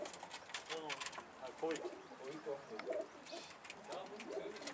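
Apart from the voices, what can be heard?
pigeon cooing while feeding two chicks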